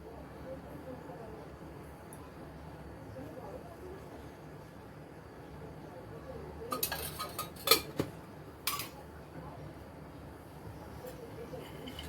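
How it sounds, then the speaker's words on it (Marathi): Peanuts stirred in hot oil in a metal kadhai, a few sharp scraping clinks of the spoon against the pan clustered together midway, over a low steady background hiss. "इथे आपण जरा शेंगदाणे तेलात छान असे परतून घेऊया"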